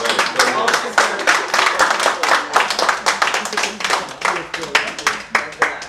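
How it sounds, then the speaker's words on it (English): An audience claps steadily in dense, continuous applause with many hands close by and no voices over it. "Now let's give yourself a round of applause."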